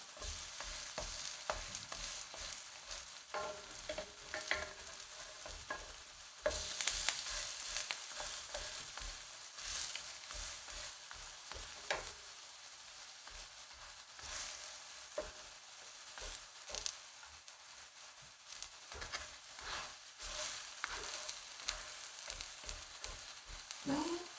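Gamjajeon, a Korean potato pancake topped with cheese, sizzles and crackles steadily in a thick pan, with scraping and pressing sounds from a spatula breaking in now and then throughout.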